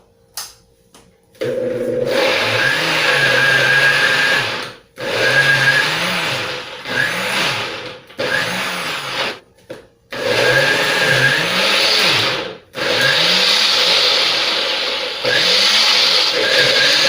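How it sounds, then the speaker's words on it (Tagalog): Electric blender whirring loudly while blending ingredients for chicken biryani, running in several long bursts separated by short pauses, with a steady motor whine and a rhythmic churning wobble as the food turns over. "i-blend muna natin ito guys para reduce siya"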